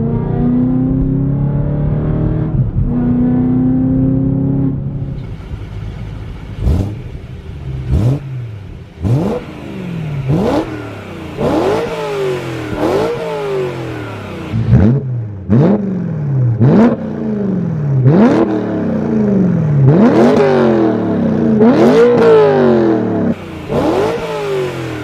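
BMW E92 M3 with muffler and resonator delete revs hard, a loud raspy exhaust climbing through repeated sharp blips and throttle pulls, each rise followed by a quick drop, with no talking.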